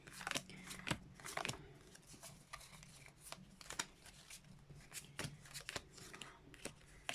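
Soft, crisp riffling of tarot cards being shuffled repeatedly, close up and quiet, with brief flurries of papery snaps.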